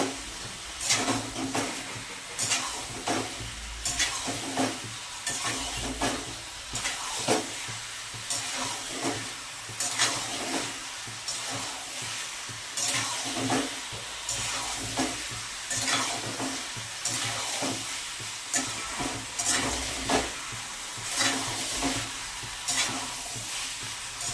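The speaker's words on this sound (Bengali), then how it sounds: "এবারে আমি এই চিকেনটা পুরোটা দিয়ে দেবো। দিয়ে ভালো করে মিক্স করে দেবো।" Chilli chicken sizzles hard in a hot pan as it is stirred and tossed, the loud, steady frying hiss broken by regular scraping strokes of a spatula, close up and continuous, with no voices.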